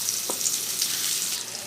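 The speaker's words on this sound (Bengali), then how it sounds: "আলুটা ভাজা ভাজা হয়ে গেছে" Potatoes frying in a pan with onion, chili and whole cumin give a steady, close, fairly quiet sizzle with a brief clink near the start, with no voices.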